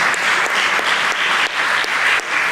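An audience at a regional statistics report presentation in the Veneto applauds, loud sustained clapping with a few sharper individual claps standing out, nobody speaking.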